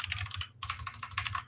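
Rapid clatter of typing on a computer keyboard, a dense run of keystrokes broken by a brief pause, then continuing at a steady close-up pace with no voices.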